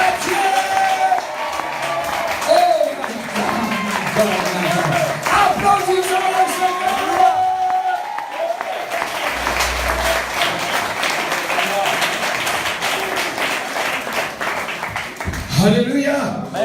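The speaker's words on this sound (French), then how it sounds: "Oh, applaudissons." A congregation claps continuously at a church service, dense sustained applause with shouting and voices mixed in, a brief lull partway and a swell near the end.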